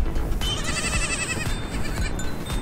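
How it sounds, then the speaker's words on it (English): Baby goats bleat repeatedly at a moderate distance outdoors, the thin wavering cries rising over steady wind and background rumble. "Look, baby goats."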